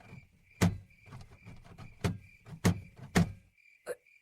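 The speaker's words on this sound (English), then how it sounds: "The door is stuck." Repeated thuds and rattles of a jammed door being pushed and yanked in uneven bursts, about five hard knocks with quieter scraping between, close and fairly loud.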